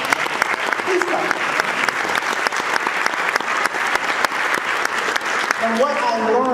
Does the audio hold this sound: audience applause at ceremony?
yes